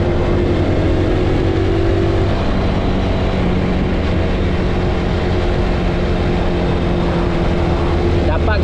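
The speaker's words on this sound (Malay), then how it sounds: "Layan bunyi exhaust je." A BMW car exhaust rumbles loudly up close, a deep steady engine drone with slight shifts in pitch as it revs.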